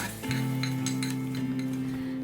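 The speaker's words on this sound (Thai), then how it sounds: "พอน้ำมันเริ่มร้อนแล้วนะคะ ให้เรา เท กระเทียมสับลงไปได้เลยค่ะ" Minced garlic hitting hot oil in a pan, a sudden bright sizzle that starts a moment in and holds steady and close, with faint clinks of a utensil against the pan.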